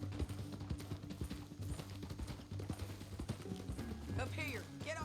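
Horse hooves clip-clop in the video game Red Dead Redemption 2, a steady rhythmic trot sounding under faint game audio, with a brief whinny near the end.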